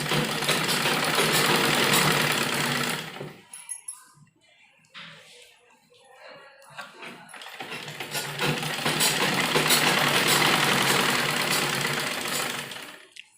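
A sewing machine stitching the front and back pieces of a printed heavy-size kurti together, a steady close whirring run, a pause of near silence with soft handling noises, then a second long continuous run.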